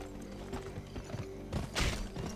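Horse hooves clip-clopping in the western video game GUN, a short run of hoof beats at moderate level with a brief louder burst near the end, over faint game ambience.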